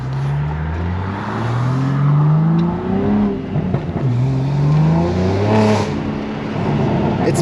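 A BMW G82 M4 accelerates hard, the close engine note climbing repeatedly through the revs with brief dips between gear changes, loud and sustained throughout.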